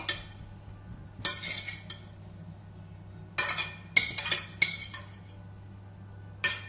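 A spoon clinks and scrapes against a bowl in several short bursts while tomato flesh is mixed with sausage meat for stuffing. Quiet pauses and a low steady hum fall between the bursts.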